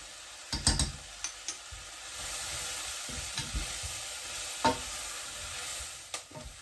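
Turmeric being stirred into onions frying in a pan for katsu curry, an even sizzle with intermittent spoon knocks and scrapes against the pan, moderately close, no voices.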